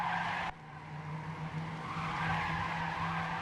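Tyres squeal steadily as a car drifts uphill in a racing video game, a continuous skidding screech over engine drone, moderately loud throughout with an abrupt cut early on.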